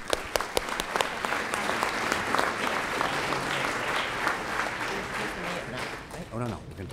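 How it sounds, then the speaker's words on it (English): An audience at a public safety officers awards ceremony claps steadily for the honorees, a dense, sustained round of applause with a few sharp claps near the microphone and faint voices mixed in. "Let's give our recipients another round of applause."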